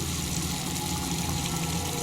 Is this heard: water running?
yes